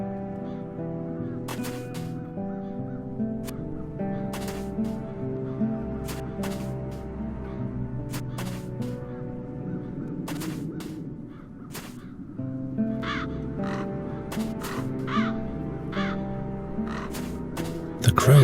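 Crows cawing in the fantasy adventure game The Dark Eye: Chains of Satinav, with repeated sharp caws over a steady droning musical score that swells partway through.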